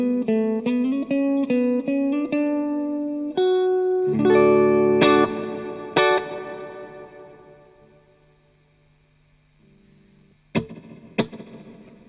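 Electric guitar through a LongAmp Ultimate Time Machine analogue delay and reverb pedal, amp reverb only, settings near noon: picked notes and chords ring out with a lingering wash that decays slowly, then a couple of sharp strums near the end.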